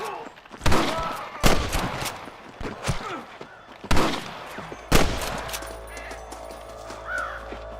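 Sniper gunfire in the Western game Red Dead Redemption, a series of loud, sharp rifle cracks spaced a second or so apart with echoing tails, then quieter ambient noise and a low hum.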